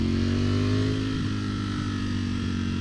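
A 2021 Ducati Streetfighter V4S ridden in sport mode, its V4 engine humming loud and close as a steady, smooth drone that eases down in pitch partway through, with no talking.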